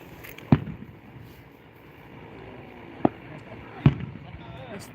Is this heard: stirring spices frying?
no